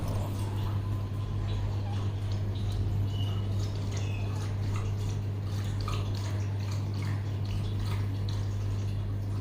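A pet laps drinking water with soft, wet, irregular licks, faint and close, over a steady low household hum.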